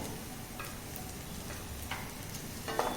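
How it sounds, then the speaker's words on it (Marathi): Curry leaves and ginger-garlic paste sizzle in hot oil for a potato curry, a steady close crackling hiss with a few brighter pops and spits, no voices. "आता आपण थोडासा कढीपत्ता टाकूया आणि आलं लसणाची पेस्ट टाकून घेऊया"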